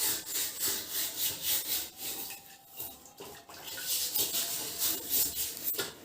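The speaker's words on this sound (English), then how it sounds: "I have to scrub neatly and slowly." Rust being scrubbed from a metal rod by hand, a repeated rasping back-and-forth stroke heard up close in steady rhythmic bursts, with a short pause midway and no voices.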